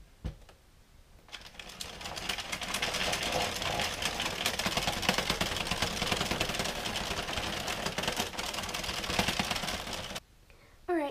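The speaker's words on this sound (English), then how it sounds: "I like to turn my Addi sideways for this so that I can crank faster." Addi King Size knitting machine cranked quickly while turned sideways, a steady rapid mechanical clatter of ticking needles running for about nine seconds at close range, starting after a brief handling knock and stopping near the end.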